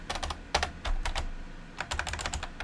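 Rapid computer keyboard typing, including tab key presses while indenting code, comes as close, crisp clicks in quick bursts separated by brief pauses.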